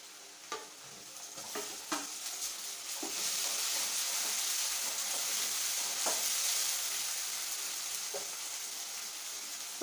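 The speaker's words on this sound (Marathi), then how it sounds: "टोमॅटो पण छान सोनेरी रंग येईपर्यंत फ्राय करून घ्यायचा आहे." Chopped tomato and onion frying in oil for a mutton curry, a steady close sizzle with scattered clicks of a spoon stirring against the pan, no voices.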